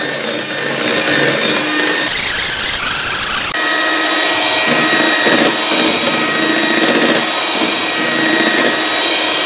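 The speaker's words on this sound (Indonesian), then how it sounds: "saya lanjutkan dengan sepet tinggi ini di mixer sampai ringan sampai mengembang" An electric mixer whips a Nutrisari ice cream mix at high speed, a loud steady whirring drone that runs through the whole stretch with a brief dip in tone partway, no voices over it.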